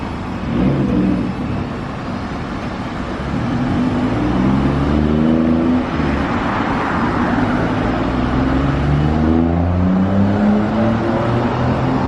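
A Toyota Chaser Tourer V rolls up close, its engine note rising and falling with rough harmonic growl over steady road noise, loud and continuous for about twelve seconds with no talk.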